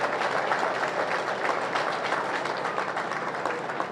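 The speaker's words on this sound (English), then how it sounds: "they all deserve another big round of applause" Audience applause at a 4-H county fair meat goat show, a steady wash of many hands clapping from the crowd that stays level for the whole stretch.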